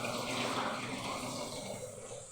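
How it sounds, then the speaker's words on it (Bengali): Two taps turned on, letting out a steady, close rush of running water that holds evenly throughout and fades only slightly near the end. "ওই দুটো কল চালিয়ে দিয়েছে"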